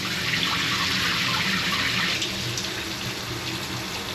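Shower water runs steadily in a cruise ship cabin on the Cunard Queen Mary 2, a constant close hiss and splash with no talk.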